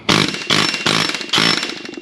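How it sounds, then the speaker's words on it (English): Pneumatic air hammer striking the axle of a 2018 Jeep Wrangler with collision damage, hammering out the axle shaft from the bearing race: four loud bursts of rapid metallic chattering in close succession, each fading slightly before the next. "But we can hit it with air hammers."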